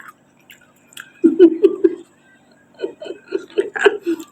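Someone chews astringent wild fruit known as mak leb maew, with wet close-up chewing bursts in two spells, mixed with voiced murmurs and a chuckling sound.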